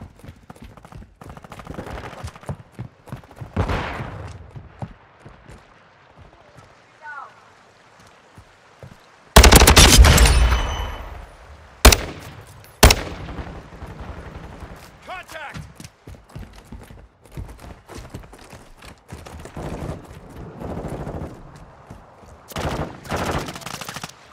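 Gunfire in Call of Duty: Modern Warfare II, scattered single shots building to a loud, dense burst of automatic fire, followed by sharp isolated cracks and later volleys, with a player talking over parts of it.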